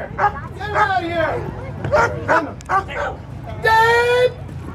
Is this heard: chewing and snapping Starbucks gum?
no